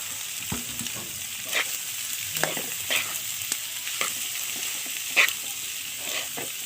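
Paklay sizzling in a pan over an outdoor fire while a utensil scrapes and clanks against it, giving a steady fry hiss broken by irregular knocks, close and fairly quiet.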